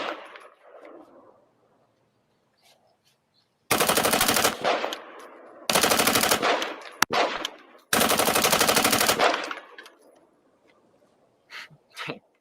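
A rifle fitted with a bump stock fires rapid automatic-style bursts, three loud sustained strings of shots separated by short pauses, with quieter handling sounds before and after.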